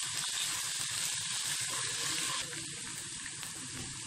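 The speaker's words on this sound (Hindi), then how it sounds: "दो मिनट के लिए इसको फ्राई कर लेंगे" Ingredients for chicken korma fry in a pan with a steady, bright hiss of sizzling oil and a few soft stirring knocks, the sizzle easing slightly partway through.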